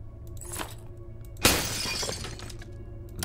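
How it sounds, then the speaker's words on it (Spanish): A window shatters in the zombie survival game Terminus: Zombie Survivors, with a sudden loud glass crash that tails off into scattered tinkling over a steady low game background. "Romper ventana."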